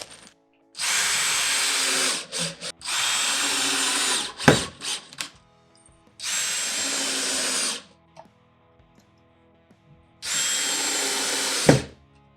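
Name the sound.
power drill driving screws into pocket holes of dining table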